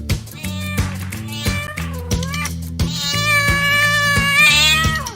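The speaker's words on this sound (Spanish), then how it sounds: "¿Saben qué sonido hace el gatito cuando está contento?" A cat meows repeatedly, with several short mews followed by a longer, rising, drawn-out cry, loud and close with no talking.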